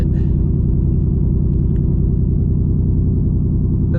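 A 2024 Ford Mustang GT S650 V8 idles just after starting, a deep, steady low rumble with a regular pulsing beat, close and continuous with no talk.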